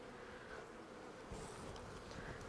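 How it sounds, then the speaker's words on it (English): Honeybees buzz inside an opened hive during an early-season inspection, a faint steady drone with a few louder passes near the listener, and no voices. "there's not like a ton of bees in here"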